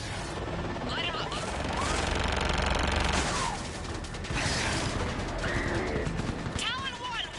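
Gunship weapons firing on ground targets in Mass Effect Legendary Edition: a loud, dense barrage of rapid shots and booms under radio chatter, with whooshing and electronic sweeps running through.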